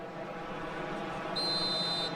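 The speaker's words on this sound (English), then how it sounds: "Whistle goes, and we start the second half." A referee's whistle in the eFootball video game blows once, a steady shrill tone lasting under a second over a constant bed of crowd noise from a football match.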